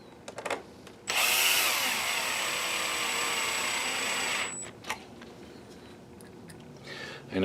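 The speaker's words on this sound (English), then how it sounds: "I know sometimes people don't like that I use a cordless drill driver, but just listen." Cordless drill driver whirring at steady speed for about three seconds while working on a projector repair, close and fairly loud, spinning down at the end, with a few short clicks before and after.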